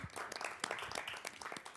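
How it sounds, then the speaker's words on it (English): An audience applauding presenters at an evening event, a dense continuous patter of many hands clapping, fairly faint and steady throughout with no voices over it. "I'd love a round of applause for our presenters, David and Willia"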